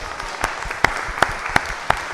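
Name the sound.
applause for the midday hallacas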